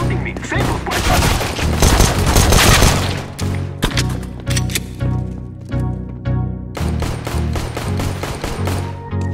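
Gunfire in the video game CS:GO, with dense rapid automatic bursts and heavy booming shots filling the mix loudly, then repeated short volleys with brief gaps between them.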